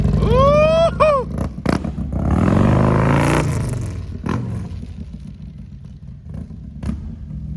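A motorcycle engine revs hard up close, with rising whining sweeps, then a broad roaring surge that settles into a steady, rumbling idle with a few sharp bursts of noise.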